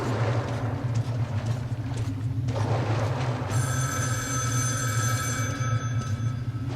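Telephone ringing in the video game Metro Last Light Redux, a shrill bell ring that starts midway and keeps going over a low engine-like hum and ambient game noise.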